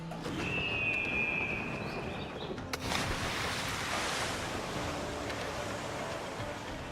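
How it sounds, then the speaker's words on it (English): Ocean waves and wind in the naval sailing game Assassin's Creed IV Black Flag, a steady broad surf wash running throughout with a brief whistling tone early on and a sharp knock near the middle. "So now that we're back in the ocean"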